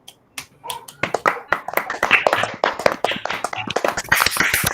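Applause from many participants at the close of an online university physics colloquium, dense overlapping claps building after a couple of isolated taps and continuing steadily throughout.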